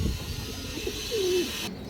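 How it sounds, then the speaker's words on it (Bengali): A big red male pigeon gives a single short, low coo, close and clear over a faint background hum. "বিগ সাইজের একটা লাল চুল্লি নর কবুতর মাশাআল্লাহ"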